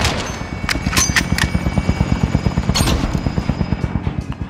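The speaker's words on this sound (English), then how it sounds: "enemy attack chopper incoming. Take it down and secure the cache." Attack helicopter rotor thudding steadily in Call of Duty Warzone, loud and close, with bursts of rapid gunfire and sharp shots cracking over the continuous rhythmic chop.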